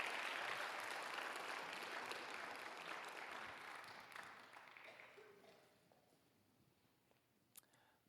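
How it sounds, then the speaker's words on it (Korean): Applause from a church youth worship congregation, fairly loud at first and gradually fading over several seconds until it dies away, leaving quiet room tone. "박수도 쳐주시면 감사하겠습니다."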